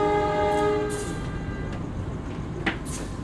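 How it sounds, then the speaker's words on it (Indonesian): Brantas passenger train passing a level crossing at night in a forest: a loud, near horn blast opens, then the steady rumble and rattle of the cars rolling past, with a few sharp clanks. "Yang artinya persiapan melintas kereta api Brantas."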